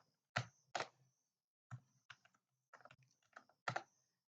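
Sparse, crisp strokes on a computer keyboard as HTML code is typed, with a few distinct keystrokes and short pauses between them in a quiet room and no talking.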